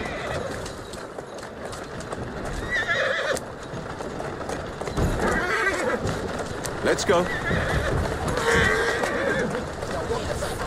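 Horse in Assassin's Creed Syndicate whinnying and clopping its hooves through a lively game scene, with a rider speaking over the neighs and steady hoofbeats.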